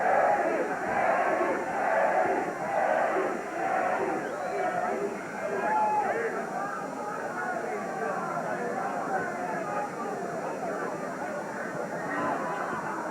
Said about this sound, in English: The crowd's hollering for Eddie.